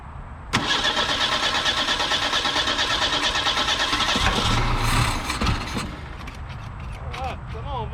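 A 1973 Ford Pinto Squire Wagon cranks and fires, its engine catching abruptly and running loud and steady, briefly revved before settling, with a voice heard faintly over it.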